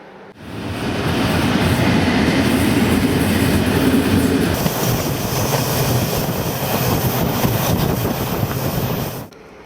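A train runs on rails in Bosnia with a loud, sustained rumble and rattling wheel noise close by, fading in at the start and cutting off near the end, with no one speaking.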